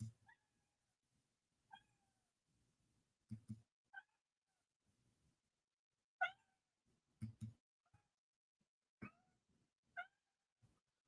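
A cat meows in short, separate cries spaced a second or two apart, close by in a quiet room, with a low voice murmuring softly between the calls.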